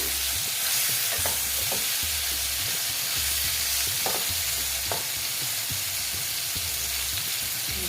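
Pieces of boal fish fry in hot oil in a pan, giving a dense, close, continuous sizzle with occasional pops and spatters.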